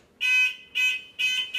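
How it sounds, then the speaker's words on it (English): Three loud, sustained electronic buzzer tones from an electric trolley's warning buzzer, with a harsh high pitch, sound in steady pulses, a fourth one starting at the end, alone and close. "you have a small audible buzzer or alarm to let people know you're coming"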